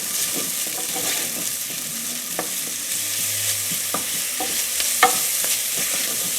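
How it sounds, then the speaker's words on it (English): Garlic and ginger frying in a pan for a vegan potato pea curry, a bright steady sizzle with light scraping stir strokes and a few clicks of the utensil, close and loud with no talking. "So now I'm going to add the garlic and the ginger. And let that fry for just a few seconds."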